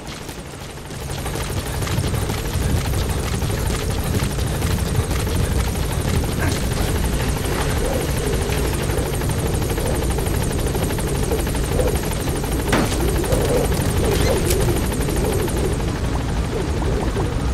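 Support helicopter in the video game Metal Gear Solid V, a steady loud rotor drone and engine roar holding constant throughout, with faint scattered game effects over it.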